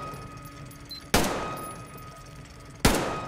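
Two sharp, loud gunshots from the video game Metro Exodus, spaced almost two seconds apart, each with a short ringing decay over a faint steady background hum.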